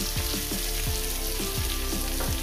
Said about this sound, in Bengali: দিয়ে এটাকে আমি ভেজে নেব, মিনিট 30 করে ভেজে নেব, 3-4 মিনিট করে।